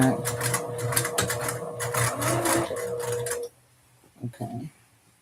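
A sewing machine runs a steady straight stitch down a dress seam, loud and close with a rapid rhythmic whir for a few seconds before stopping; a voice talks over it and briefly after.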